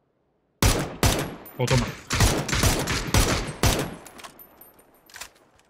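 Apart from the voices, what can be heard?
gunfire in the video game PUBG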